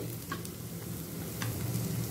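Capsicum and chopped green chilli frying in a pan for sabudana upma, with a steady close sizzle and brief clinks of stirring throughout, no talking.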